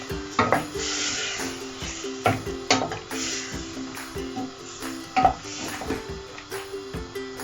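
Karahi chicken with spices being stirred in a pot, repeated close scraping and knocking strokes of a spoon against the pan in an uneven rhythm over a soft background sizzle.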